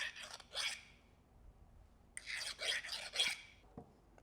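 A rat tail file rasps against a Japanese chisel handle, setting the hoop at the top; one short stroke, a pause, then three or four stronger rasping strokes at close range, with no talking.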